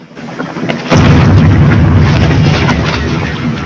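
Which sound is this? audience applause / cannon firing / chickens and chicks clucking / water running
cannon firing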